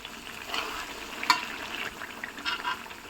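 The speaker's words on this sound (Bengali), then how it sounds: "তেঁতুলের কাঠ দিয়ে রসুনটাকে ভালো করে নেড়ে নেব।" Garlic pickle with tamarind pulp stirred in a pan, giving a soft, steady sizzle with light scraping and a brief clink near the middle, fairly quiet and close.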